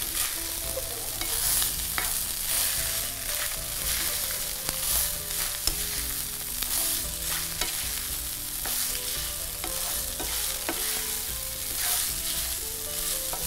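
Chinese fried rice with vegetables sizzles steadily in a hot pan as it is tossed and stirred, with frequent light clinks and scrapes of the utensil against the metal over a constant close frying hiss.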